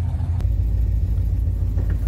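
Engine of a 1967 Dodge Charger rumbling while driving, a deep, steady low-end throb heard from inside the car with a couple of brief knocks, no talking.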